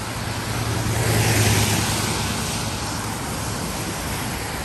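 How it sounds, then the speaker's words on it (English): Street traffic heard while walking outdoors, a loud, continuous roar of passing cars with a swelling rush as one vehicle goes by close, then an even steady wash. "Enjoy the traffic noises, my friends."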